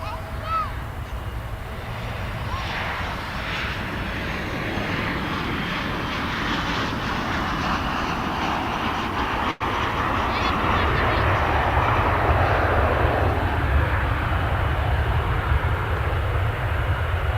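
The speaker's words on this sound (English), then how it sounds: "behind that one there is an American Airlines plane going over the bridge to the east side of the airport" An American Airlines jet passes over a bridge toward the east side of DFW airport, a broad steady engine roar that swells slightly and holds loud throughout, with a voice faintly underneath.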